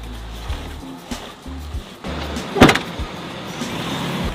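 A 4x4 car driving toward the volcanoes in Guatemala, heard as a low engine rumble with intermittent bumps and a sharp rattle near the middle, no voices.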